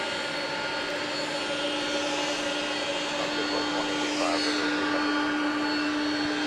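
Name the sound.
airplane landing at Atlanta airport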